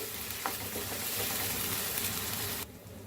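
Country chicken frying in oil in a non-stick pan and stirred with a wooden spoon: a dense, loud, steady sizzle with faint scraping strokes that cuts off abruptly near the end.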